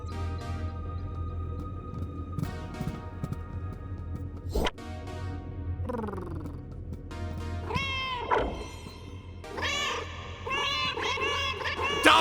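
Cartoonish cat meows and yowls from a video game, several short rising calls in the second half over steady game music and effects, fairly loud.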